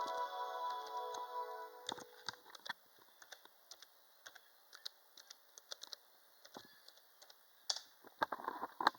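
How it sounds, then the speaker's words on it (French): A code typed on a computer keyboard: a string of light, irregular key clicks, close and quiet, following a brief electronic tone at the start. "Je vais juste taper mon code."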